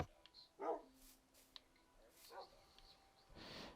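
Dogs bark in a video game, a few sharp, quiet yips and barks scattered over a few seconds against a faint background.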